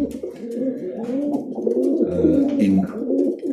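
Muffed and grouse-legged pigeons coo repeatedly in low, throaty, rolling calls. The sound is close and steady, with a few brief chirps above it.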